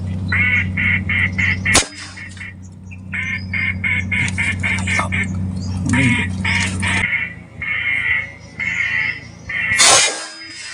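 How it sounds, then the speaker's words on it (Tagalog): Ducks at a fishpond quack loudly and nearby in rapid repeated bursts over about ten seconds, with brief pauses, a steady low hum and a sharp knock near the end. "may bumaba na namang pato"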